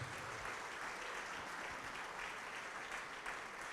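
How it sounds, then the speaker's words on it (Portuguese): A church congregation applauds in a dense, sustained wall of clapping at steady loudness, with no break and no talk over it. "E vamos aplaudir mais ao nome de Jesus."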